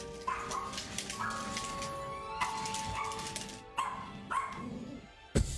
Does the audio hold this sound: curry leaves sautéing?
no